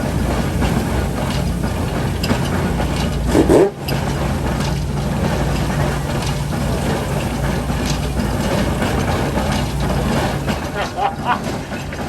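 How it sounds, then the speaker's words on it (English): A large William Foster agricultural steam engine being driven away at a steam rally, giving a continuous low mechanical rumble and chug with crowd background and a brief nearby knock midway. "they're taking this rather big steam engine back"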